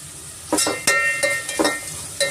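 Onions frying with salt in a pan for Hyderabadi chicken dum biryani: a steady close sizzle broken by several sharp scraping stirs, with no talking.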